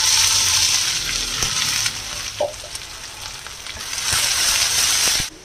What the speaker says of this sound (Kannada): ಎಣ್ಣೆ ಬಿಸಿ ಆಗಿದೆ. ಇದರಲ್ಲಿ ಸಾಸಿವೆ, ಉದ್ದಿನಬೇಳೆ, ಹಾಗೆ ಕಟ್ ಮಾಡಿರೋಂಥ 2 ಮೆಣಸಿನ್ಕಾಯಿ ಹಾಕ್ಕೊಂಡಿದ್ದೀನಿ